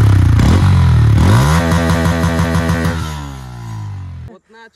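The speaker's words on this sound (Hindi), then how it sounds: "और इसका एग्जॉस्ट नोट भी है, वो भी बहुत अच्छा है, जो कि अभी आप सुन सकते हैं।" A Bajaj Pulsar N160 motorcycle exhaust sounds loud and close, revving up and then settling into a steady, throbbing beat before cutting off abruptly near the end.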